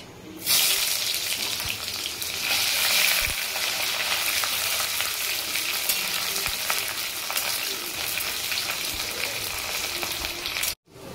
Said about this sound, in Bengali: আমরা পেঁয়াজটা ভালো করে ভেজে নিয়েছি